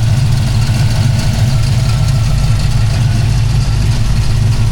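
A V8 engine idles loud and close, a deep, throbbing low rumble with an uneven pulsing beat and no voices.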